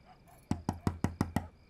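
Knocking on a door: six quick, evenly spaced raps in a tight burst, close and crisp, following a short quiet pause.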